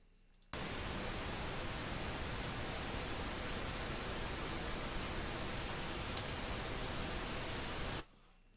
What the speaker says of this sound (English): pink noise. That's what pink noise sounds like.